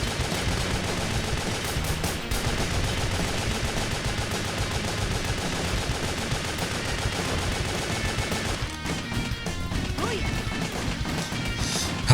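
Slow-motion gunfire in the action video game Wet, a dense, continuous barrage of crashing, smeared shots over loud game music, with no clear breaks until a thinner stretch near the end.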